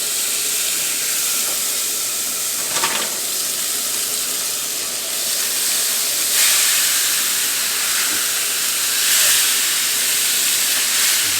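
T-bone steaks sizzle steadily on a hot grill, a dense continuous hiss up close with occasional pops and swells, no talking.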